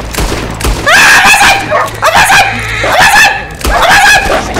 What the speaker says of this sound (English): Down, doggy! Down! Down! Down!